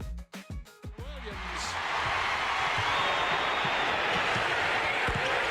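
A basketball arena crowd at an NBA playoff game against the Utah Jazz swells into a loud, sustained roar of cheering after a brief stretch of announcer speech.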